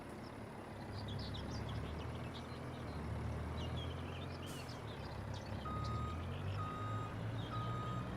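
Truck reversing beeper in Farming Simulator 25, steady evenly spaced beeps sounding over a continuous engine rumble, with faint bird calls in the background.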